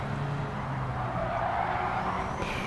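A race car skids through a corner at Suzuka in a racing video game, with a continuous engine drone and tyre scrub rising slightly mid-way, loud and close, with no voice over it.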